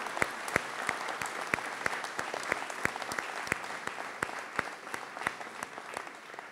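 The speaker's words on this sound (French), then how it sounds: "On peut les applaudir de nouveau," An audience at a mayor's New Year address in Léguevin applauds the children's council, a sustained crowd clapping with sharp individual claps standing out in a steady, fairly quiet rhythm.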